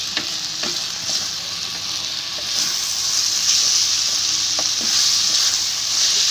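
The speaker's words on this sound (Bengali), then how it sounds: "আর সয়া সস একটু নেড়ে নিই" Pasta with soy sauce is stirred in a hot pan, giving a continuous loud sizzle broken by a few sharp utensil scrapes and taps. There are no voices.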